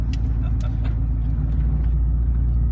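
A Koenigsegg Regera driven at roughly one-third throttle gives a deep, smooth, steady engine hum from inside the car, loud and even throughout, with a few faint clicks over it.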